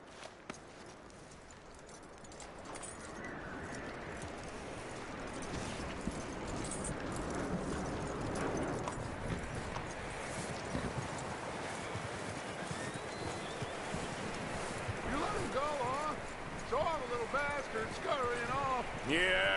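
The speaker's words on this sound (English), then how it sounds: "That looks like a decent horse." Horse hooves clatter and shuffle in Red Dead Redemption 2, a busy continuous clopping over rough ground with jangling tack, under game dialogue and a voice calming the animal.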